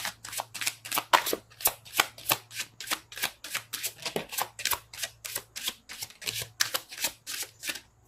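Tarot cards are shuffled in quick, crisp, evenly spaced riffles, a long steady run of papery snaps close by, with no talking.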